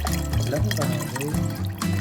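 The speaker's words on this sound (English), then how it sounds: "Let's mix rice water and garlic water together." Rice water and garlic water poured together for orchid care, a continuous splashing, trickling pour up close, with a voice talking over it.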